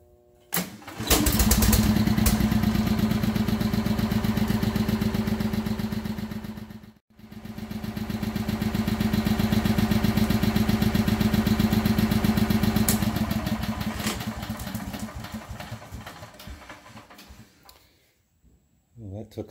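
An Onan generator engine cranks repeatedly through an LT60 automatic transfer switch, a loud rhythmic starter churn in two long bursts with a brief pause between, fading before a final click.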